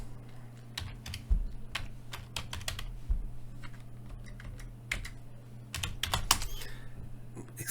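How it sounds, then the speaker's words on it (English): Clicking keystrokes on a computer keyboard come in irregular bursts and single taps, close and fairly quiet, with a low steady hum behind them and no talking. "excuse my typing"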